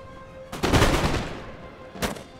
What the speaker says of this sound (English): unload a volley on them